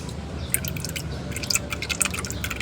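Engine oil dripping from a Hyundai Accent during an oil change: a steady run of small wet drips and splats, fairly close, over a low background rumble, with no talking.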